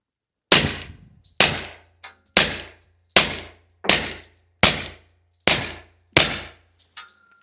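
An FN 510 pistol fires eight shots of subsonic 40 Smith & Wesson in a steady, evenly spaced string, each a sharp, fairly quiet crack with a short decaying ring.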